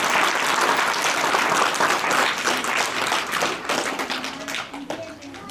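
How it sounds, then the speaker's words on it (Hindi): A school crowd claps loudly and steadily in dense, continuous applause that thins slightly toward the end, with no clear speech over it. "जोरदार तालियां"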